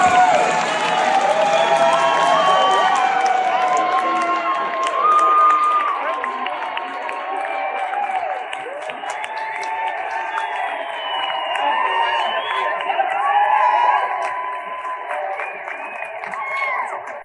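Loud crowd applause and cheering as drag queens arrive at an event at the Kennedy Center, sustained clapping mixed with whoops and shouts throughout.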